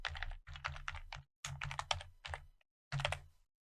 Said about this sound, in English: I type out Brooklyn Bridge